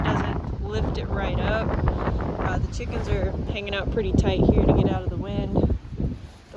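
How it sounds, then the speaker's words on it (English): Strong wind on a farm roars steadily against the microphone in a loud continuous rush while someone talks over it. "But man, that wind isn't fun."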